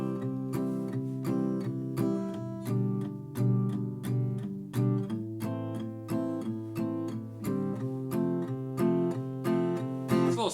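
An acoustic guitar, played with a pick, strums the four chords of a song in a steady, close rhythm of repeated strokes, heard alone without voices.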